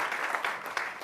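Audience applause at a Fortune CEO Initiative 2017 session, a steady wash of clapping for a group's presentation, moderately loud and sustained for about a second with a few sharper claps.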